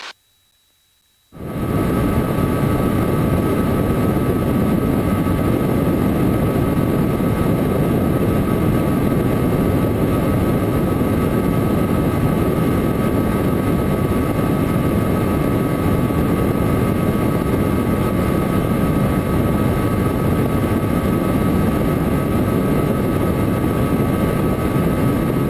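A Hughes 269B helicopter in the airport traffic pattern over the interstate at London, Kentucky, its engine and rotor giving a steady, loud, continuous drone right from the start after a brief silence, with no talk.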